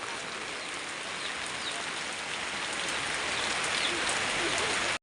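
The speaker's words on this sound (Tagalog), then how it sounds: "Ulan na po." Steady, dense rain pours down evenly, a constant hiss of drops striking surfaces close by, growing slightly heavier toward the end with no voices.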